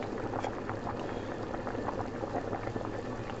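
Pot of pasta water at a steady rolling boil on high heat, close and continuous bubbling and gurgling with no speech, holding an even level throughout.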